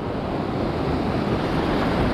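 Waves washing onto a winter shoreline, a continuous loud surf roar with wind buffeting the microphone and no voices.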